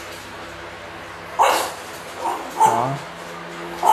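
Dog barking in an indoor kennel room with two-tier stainless steel cages, a few sharp barks and a short whimper spaced over a few seconds, close and loud, with a brief spoken word among them.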